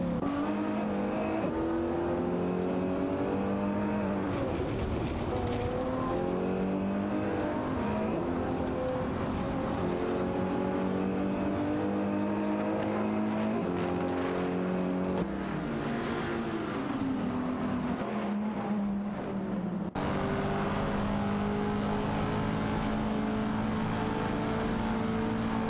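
Race cars in a racing video game drone around a circuit in a tight pack, their overlapping engine pitches sweeping up and down through gear changes, loud and constant with no pauses.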